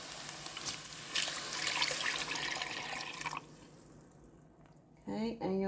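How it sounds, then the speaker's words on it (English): Water splashes and pours into a cooking pot of chicken dopiaza curry for a few seconds, then stops, followed by a short burst of a voice speaking. "you're going to pour in your water"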